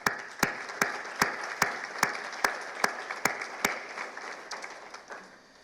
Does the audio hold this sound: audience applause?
yes